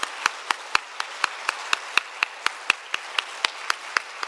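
A church congregation at a Wednesday evening worship service claps in slow, even unison, with crisp separate beats at a steady pace and nothing else beneath them.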